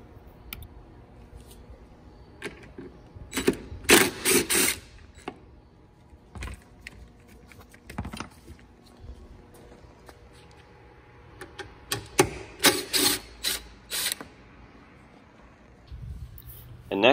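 A Torx bit clicks and rattles while bolts are removed from the rear bumper cover of a 2019-2021 Honda Passport, with sharp bursts of metallic ratcheting and clatter separated by quieter pauses.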